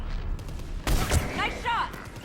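Gunfire in Mass Effect Legendary Edition, a couple of sharp close shots around the middle amid battle noise, with brief voices speaking over the combat.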